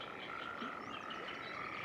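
Frogs croaking by a pond in a coniferous forest, a faint continuous chorus of trilling calls heard at a distance.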